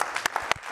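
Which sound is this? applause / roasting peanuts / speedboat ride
applause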